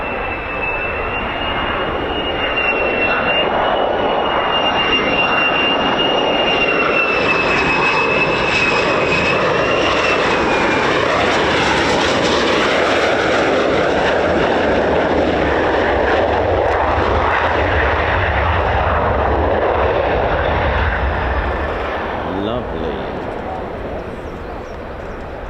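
Fighter jets, F-15s and F-35s, landing at RAF Lakenheath, a loud continuous jet roar with a high whine that rises and fades as the aircraft passes nearby, holding steady for about twenty seconds.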